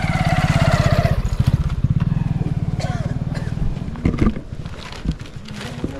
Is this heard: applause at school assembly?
no